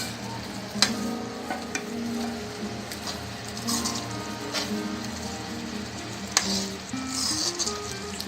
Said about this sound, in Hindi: 2-4 मिनट के लिए इसे चलाते रहें। गैस तेज़ कर देनी है।